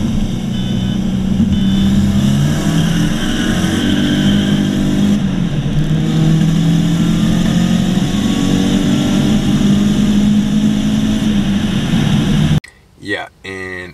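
A 500 hp Saab 9-5 with a newly fitted fuel pump drones and revs from inside the cabin on a road drive, rising and falling steadily, before the sound cuts off abruptly near the end.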